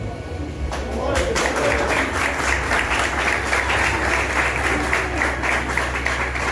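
A church congregation applauds Jesus during a sermon, steady dense clapping that swells in after a brief start and holds loud and even, with a low hum beneath and some voices mixed in.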